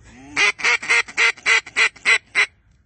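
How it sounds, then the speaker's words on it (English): Ducks or geese honk loudly in a regular series of about eight evenly spaced, nasal calls during a duck hunt outdoors, close and clear with no talking. "We are out here duck hunting, you know."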